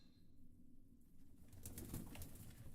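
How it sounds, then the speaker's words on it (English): Soft cooing from a pigeon-like bird drifts through an old cathedral, low and somewhat distant, rising a little later alongside faint rustling. "That's a bird."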